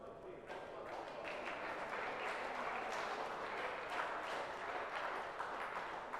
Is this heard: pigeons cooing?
no